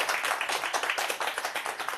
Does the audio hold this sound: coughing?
no